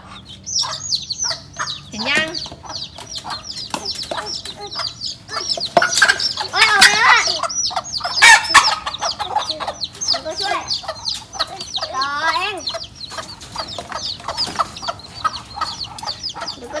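Chickens cluck and chicks peep busily up close as people try to catch the chicks, overlapping and continuous, with Thai speech among the birds.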